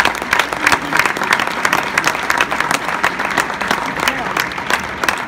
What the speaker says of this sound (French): vous pouvez applaudir une nouvelle fois Xavier Verne